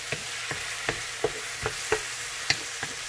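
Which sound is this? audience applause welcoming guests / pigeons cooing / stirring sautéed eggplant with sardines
stirring sautéed eggplant with sardines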